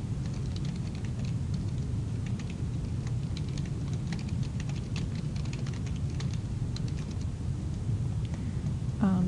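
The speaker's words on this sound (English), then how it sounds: "I can start typing in the document." Someone types on a computer keyboard in a steady patter of light key clicks over a constant low background rumble, with a short burst of a voice at the very end.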